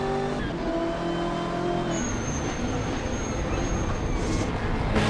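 A BMW M8 GTE race car in a sim racing league event at Shanghai International Circuit roars with a loud, continuous engine drone. Its tones shift as it changes gear, with a high tire-like whine near the end.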